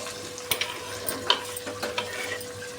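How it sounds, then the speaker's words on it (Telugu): Chopped vegetables and tomato stirred and sizzling in a hot pan for veg biryani, with a few sharp scrapes and clatters over a low, steady frying hiss. "వెజిటేబుల్స్ మొత్తం వేసేసిన మంచిగా కలబెట్టేద్దాం"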